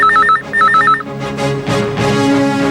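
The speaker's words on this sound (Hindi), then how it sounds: "विक्रांत नगर पुलिस स्टेशन से किसी ऑफिसर का फोन है।" A telephone rings twice in quick bursts in a busy police station office, loud and close, then gives way to indistinct talk and room noise.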